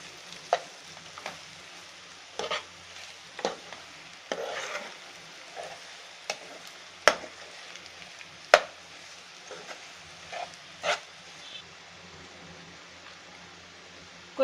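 Spicy prawns frying in a pan, giving a soft steady sizzle broken by occasional sharp taps and scrapes of stirring, fairly faint and without talk.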